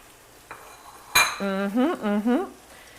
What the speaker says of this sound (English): Stir fry this around, cook it.